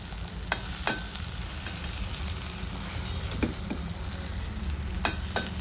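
Paratha masala with turmeric frying and being stirred in a pan, with a loud, steady dense sizzle throughout and a few sharp spoon knocks against the pan, close up.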